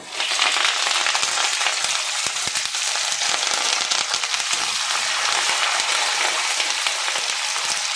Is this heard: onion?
yes